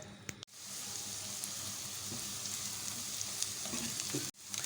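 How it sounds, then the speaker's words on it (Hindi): Onions frying in a pan for a turai (ridge gourd) sabzi, a steady close sizzle with faint stirring scrapes that runs continuously, cutting out briefly near the start and end. "प्याज को हमें इतना फ्राई करना है कि प्याज जो है वो सॉफ्ट हो जाए।"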